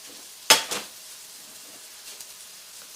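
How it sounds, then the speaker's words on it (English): Raspberry chipotle sauce, half pureed and half chunky, is stirred in a pan: two sharp utensil clinks against the pan come close together, then only faint, soft scraping follows in near quiet. "Stir that together."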